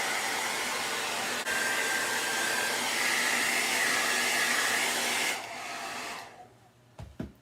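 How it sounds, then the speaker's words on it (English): A hair dryer blows loudly and steadily over painted burlap fabric, then cuts off about two-thirds through, leaving a fading whir and a few light knocks. "I apologize for all the blow drying."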